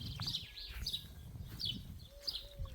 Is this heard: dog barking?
no